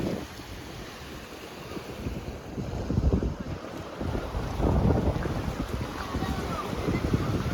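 The Shilabati River's strong flood current at Simlapal rushes past as a broad, low roar, heavily buffeted by wind noise at the microphone.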